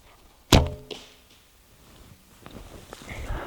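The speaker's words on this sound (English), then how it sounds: "Let me shoot again here, see if I can improve my group and location on the target just a little bit." One arrow loosed from a traditional bow strikes the target with a sharp thwack, followed by a softer knock and then quiet shuffling and faint rustle nearby.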